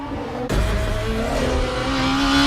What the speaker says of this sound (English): the whine of the engine as you shift gears